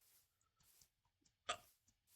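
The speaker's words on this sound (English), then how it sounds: "Oh no, not hiccups." A single faint human hiccup, a short sharp catch of breath standing out over quiet low background noise, with no talk.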